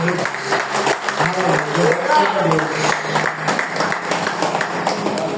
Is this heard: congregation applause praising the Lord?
yes